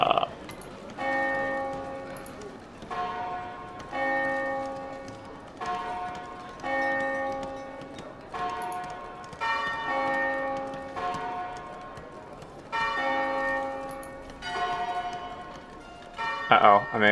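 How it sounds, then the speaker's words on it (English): Bell tower in the medieval city-building game Foundation rings a series of clear, resonant strikes about two seconds apart, each fading slowly, with a voice speaking softly underneath. "Bell tower. Oh, we have sounds."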